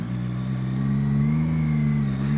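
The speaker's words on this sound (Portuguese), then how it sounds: "Isto é um motor tricilíndrico." A CFMoto 675SR-R three-cylinder motorcycle engine holds a loud, smooth, steady drone that rises slightly in pitch midway, heard close up from the rider's helmet.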